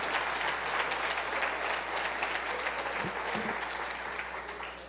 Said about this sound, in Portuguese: Dê um forte aplauso a Jesus.